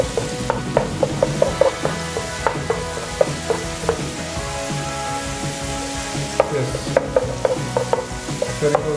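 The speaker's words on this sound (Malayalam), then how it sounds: "ജിഞ്ചർ ഗാർലിക്കിൻ്റെ പച്ചമണം ഒന്ന് മാറി കിട്ടും. അതുവരെ ഒന്ന് ചെറിയ രീതിയിൽ മൂപ്പിക്കുക" Ginger garlic paste sautéing in a pan for liver fry, a soft continuous sizzle punctuated by repeated sharp spatula taps and scrapes, close by, no voices.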